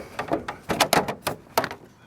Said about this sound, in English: And don't forget to open the saddlebag door.